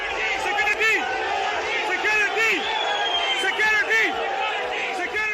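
Crowd of fans in a stadium after Pakistan beat New Zealand at cricket, chanting in loud repeated rhythmic shouts with whoops, a dense roaring mass of voices throughout.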